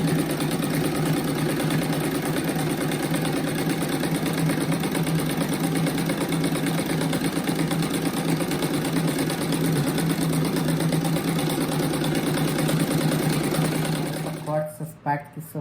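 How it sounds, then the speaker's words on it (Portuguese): A sewing machine stitches a pocket seam on a rabbit-shaped fabric placemat, a loud, close, unbroken motor hum with rapid needle chatter that runs for most of the clip before stopping near the end. "Eu viro e passo a costura bem em cima dessa costura ali, ó."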